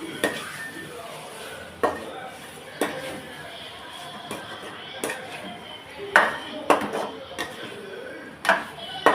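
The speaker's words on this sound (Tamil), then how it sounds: "சிக்கனை சேர்த்து நல்லா மசாலாவோட நல்லா கலந்து விட்றலாம்." Chicken is stirred into fried masala with shallot paste in a pan, with repeated sharp metallic clinks and scrapes of a spoon against the pan over soft sizzling, while a person talks.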